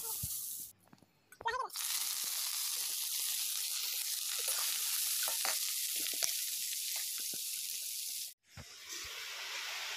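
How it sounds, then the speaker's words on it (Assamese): Chicken chow mein is stir-fried in a hot pan, giving a loud, continuous hiss and sizzle with scraping stirs and a brief break near the end. A voice is heard in a short gap early on. "চাওমিনটো এনেকৈ বহলাই বহলাই ভাজিলে তেতিয়াহে ভজা খায়।"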